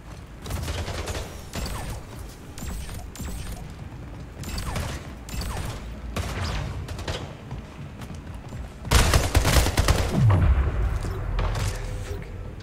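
Gunfire in Left 4 Dead 2, pistol shots cracking amid a busy mix of game noise, with a louder, denser burst of shots and impacts near the end.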